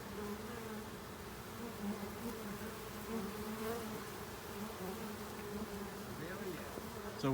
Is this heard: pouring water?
no